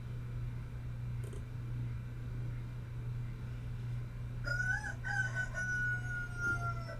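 A Plymouth Rock, or Barred Rock, rooster crows once at a distance, faint over a steady low hum, starting midway and trailing off near the end.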